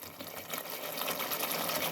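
Water pours steadily into a cooking pan of tomato pulao base, a continuous rushing splash at low volume with no talking.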